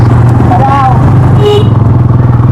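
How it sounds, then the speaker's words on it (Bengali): A motorcycle engine drones steadily at close range throughout, with rhythmic low rumbling, while a voice and some horn-like tones come through over it. "যেন বাইক আটকে না দেয় সেভাবে চালাস।"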